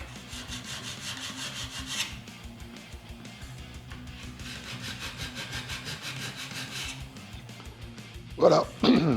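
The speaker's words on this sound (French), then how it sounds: "Il y a des endroits où le Z-File mord à peine dans le métal." A Z-File rasps across the metal frets of a guitar neck in repeated back-and-forth strokes, a close, steady scraping rhythm that continues throughout and ends with a few louder knocks.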